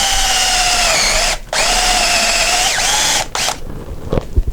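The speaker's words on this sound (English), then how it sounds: "And I'm just going to use a drill for this." A loud power drill whines steadily as it bores into wood, stops briefly, spins up again, then cuts off near the end with a few clunks.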